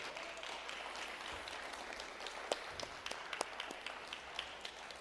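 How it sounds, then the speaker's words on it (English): An audience at a church's 80th anniversary event applauds a panel, a faint, fairly distant patter of clapping with a few sharper individual claps standing out. "Let's give our panel a round of applause."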